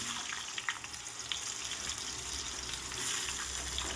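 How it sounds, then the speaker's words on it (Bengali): Long-cut potato strips sliding into hot oil in a wok, giving a soft, steady bubbling sizzle that swells slightly toward the end, with no talk. "এবার এই কড়াইয়ের তেলের মধ্যে দিয়ে দিচ্ছি লম্বা লম্বা করে কাটা আলুগুলো"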